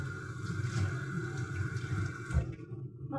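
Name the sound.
washing a spoon under running water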